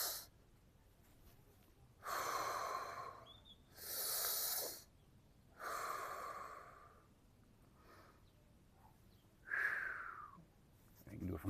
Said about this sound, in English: So when you take a deep breath, remember, your stomach should come out.